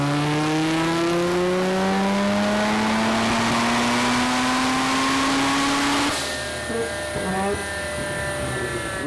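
A turbocharged rotary engine, a 20B-style unit in a Corvette, revs hard on a dyno with a loud, rising, buzzy wail that climbs for about six seconds before cutting off abruptly into a lower idle with turbo whine.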